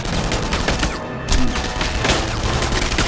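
Sustained MP40 submachine gun fire in the World War II shooter Enemy Front, loud dense bursts of rapid shots with cracking impacts filling the whole stretch, briefly dipping before resuming.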